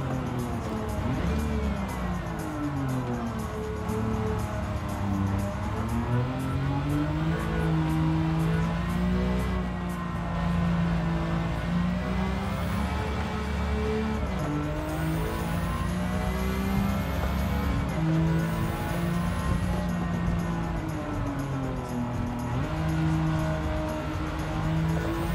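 Car engine in the Gran Turismo 7 video game, a sustained droning hum that rises and falls in pitch as the revs climb and drop, steady and close, with no talk over it.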